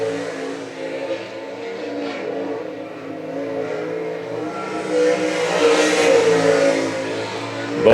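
Great Lakes Super Sprints race cars lap I-96 Speedway, a loud sustained engine roar that swells as the cars pass nearby, heard from trackside with no talk.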